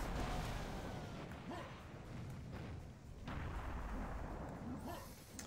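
Heavy cannon blasts in the Serious Sam first-person shooter, a dense run of booming thuds and rumbling impacts filling the whole clip, loud and continuous with game noise layered over them.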